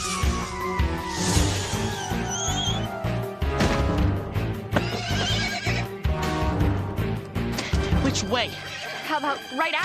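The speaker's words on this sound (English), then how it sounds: "A miniature seeing eye horse." A miniature seeing-eye horse neighs and whinnies amid a busy cartoon scene, with dense music and voices running continuously over it.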